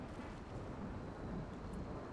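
Rain falling steadily with low rumbling thunder in the colony-building game RimWorld, a continuous dense wash of sound with a deep, heavy low end.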